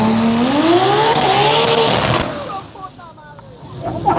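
Street-legal drag cars, including a 1993 Toyota Supra, launch side by side at Bradenton Motorsports Park, the engines roaring loud and rising in pitch as they pull away, then fading into the distance as a crowd and track noise carry on.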